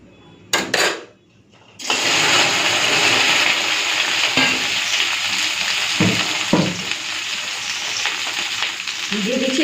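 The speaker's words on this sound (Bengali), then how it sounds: "এখন এই ঢেঁড়সগুলোকে ভেজে নেব।" Okra dropped into hot mustard oil crackles into a loud, steady sizzle after a brief burst and pause, holding strong throughout with occasional stirring clatter.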